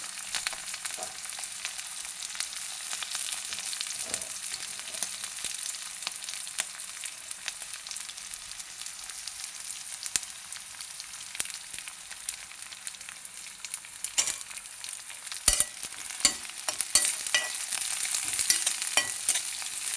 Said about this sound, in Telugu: ఉల్లిపాయలు పచ్చివాసన పోయే వరకు వేయించాలండి